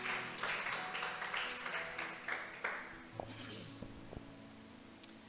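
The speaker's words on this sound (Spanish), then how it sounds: "Vamos a darle un grande aplauso al Señor por el mensaje" A church congregation breaks into applause, a dense patter of clapping that fades over a few seconds, leaving scattered claps and a quiet room.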